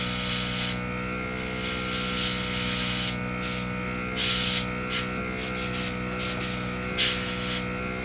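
Airbrush spraying paint onto a Messerschmitt 109K scale model, with a series of short hissing bursts of varying length over a steady background hum.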